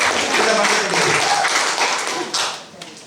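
Congregation clapping together at a church fellowship service, a dense steady wash of many hands that holds strong for about two and a half seconds, then thins and fades.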